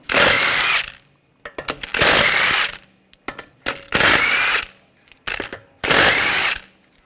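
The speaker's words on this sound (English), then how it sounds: "use a 17mm socket, take the lug bolts out" A power tool spins lug bolts out of the front wheel of a 2007-2013 BMW X5 using a 17mm socket. Four loud, close whirring bursts of under a second each come with ratcheting clicks and small clatters in the pauses between them.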